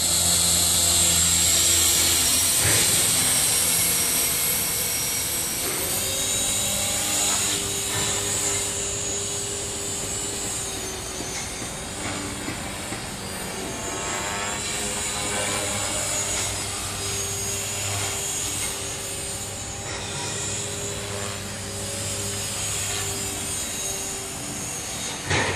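An Align T-Rex 500 radio-controlled helicopter's rotor spins steadily, giving a sustained buzzing whine with a low throbbing hum that holds at a fairly constant level nearby, with no talking.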